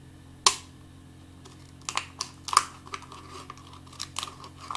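A plastic cup is cut during a children's woven-wool basket craft: one sharp crinkle, a pause, then a string of small, irregular clicks and crackles, close and fairly quiet, with no talking.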